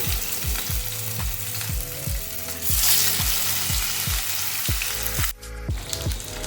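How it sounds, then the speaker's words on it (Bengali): Marinated katla fish pieces fry in plenty of hot oil, a loud, close, continuous sizzle with a quick series of rhythmic knocks and scrapes from a utensil against the pan. "এবার ম্যারিনেট করে রাখা মাছগুলোকে এতে ভাজার জন্য দিয়ে দেবো।"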